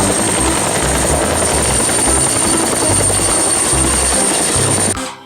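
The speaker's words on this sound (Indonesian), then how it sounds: "Wadidaw, helikopter." A toy helicopter, found among other toy vehicles unpacked from a toy sand truck, gives a steady loud whir with a high buzzing tone and a low throbbing pulse. It runs nonstop for about five seconds, then cuts off.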